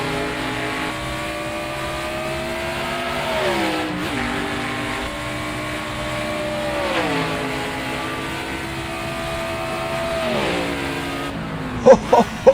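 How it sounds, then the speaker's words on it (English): The Project 91 race car roars through a sim racing video game, its engine note climbing steadily and dropping sharply at each gear change or braking point. The engine drones loud and continuous, with a few clicks near the end. "So let's go for a wild ride with the Project 91 car of Shane Bonner Gizelbergen"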